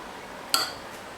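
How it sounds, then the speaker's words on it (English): A spoon gives one sharp, bright clink against the bowl as a mixture with milk is stirred, ringing briefly in a quiet room. "Then stir it well"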